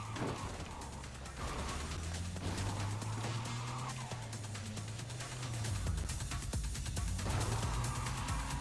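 A car engine in the video game Cyberpunk 2077 drones at low pitch with rising and falling revs, mechanical clatter and skidding noises layered over it, loud and continuous.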